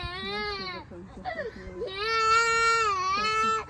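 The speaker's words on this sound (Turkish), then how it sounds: "Ondan daha çok ağlıyor." A baby cries loudly nearby in a village home setting, broken wails rising into a sustained high-pitched sobbing cry, with no other sounds competing.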